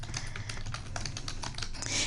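Fast clicking of keys on a computer keyboard while editing a class assignment document, steady close-up tapping with a faint voice in the background.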